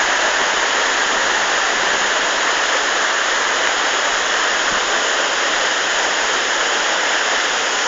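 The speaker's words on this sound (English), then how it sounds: "I'll show you the full effect of the waterfall" Pistyll Rhaeadr waterfall and a raging river in spate, a loud, steady roar of rushing water filling the scene without a break, close and unvarying throughout.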